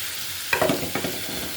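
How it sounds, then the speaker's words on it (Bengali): Boiled eggs for egg bhuna are turned in a frying pan, giving a couple of close scraping stirs over a soft, steady sizzle. "এই তো ছেলের জন্য এখন ডিম ভুনা করবো"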